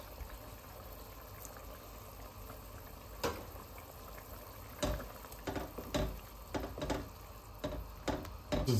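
Osso buco sauce with chopped tomatoes simmering in a pot, quiet bubbling with soft sporadic pops and clicks growing more frequent toward the end.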